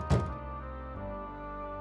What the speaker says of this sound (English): Who's that banging on the door at tea time?